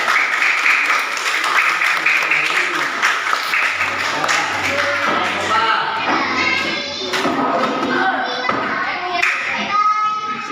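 Classroom applause for group 3 from children, a dense patter of clapping hands that builds then scatters into scattered claps and kids chattering.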